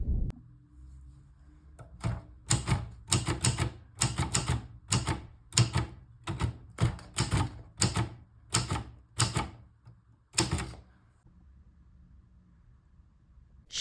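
An antique typewriter clacks through a quick run of sharp, evenly spaced keystrokes, each a crisp mechanical strike. The taps stop briefly near the end before one last key, close and clear with no voices.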